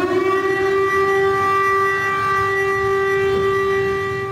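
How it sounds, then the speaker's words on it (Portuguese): A loud air raid siren wails steadily in a city square lined with anti-tank barricades, a sustained tonal howl with rich harmonics that slowly fades slightly toward the end. "estava uma sirene muito, muito forte"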